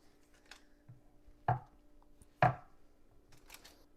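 A knife cutting through frozen chocolate almond flour cookie dough on a board, with two sharp, distinct knocks and a few fainter taps in a quiet kitchen.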